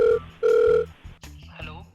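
An outgoing phone call rings out over the line, two short ringback tone bursts near the start, followed by muffled voices talking over the telephone connection.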